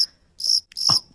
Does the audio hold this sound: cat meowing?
no